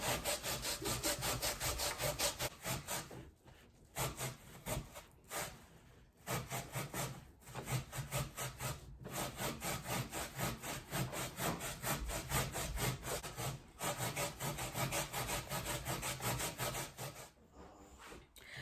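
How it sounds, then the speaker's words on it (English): Coconut and sweet potato being grated by hand on a grater for Antiguan ducana, a steady rhythmic scraping rasp that continues closely and loudly with a few brief pauses. "This is what it looks like after grating the coconut and the sweet potato."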